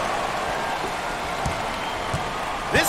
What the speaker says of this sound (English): This crowd is off the charts, Coach.